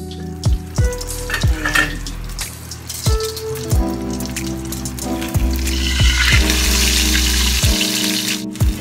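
Milkfish (bangus) frying in oil in a pan, a steady close sizzle broken by sharp pops and spatters at irregular intervals, growing denser and louder toward the end.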